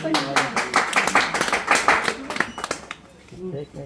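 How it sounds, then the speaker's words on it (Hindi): A crowd at a certificate distribution ceremony claps in a burst of applause that fades out after a few seconds, followed by a brief quiet moment. "बहुत सारी तालियां"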